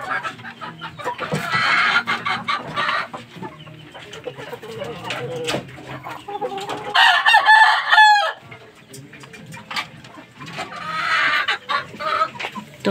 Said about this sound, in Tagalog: Ito yung broadcock namin kanaway guys.